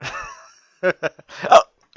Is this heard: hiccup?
yes